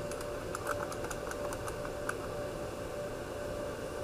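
Quick, light keystrokes clatter on a computer keyboard in a short burst of a dozen or so taps, faint under a steady background hiss, without speech.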